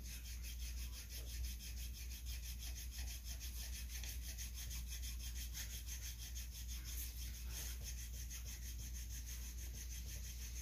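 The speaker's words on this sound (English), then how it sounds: "I'm gonna take the little stone and do a little polishing on the stone." A small sharpening stone rubs across a metal gasket surface on a clamped saw part in steady, continuous scraping strokes, close and even, with no pauses.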